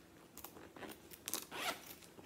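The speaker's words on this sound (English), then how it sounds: "It has a zipper closure." A zipper on a vintage leather purse is pulled open and shut in a few quick, close rasping strokes of uneven length, with brief pauses between pulls and no talking.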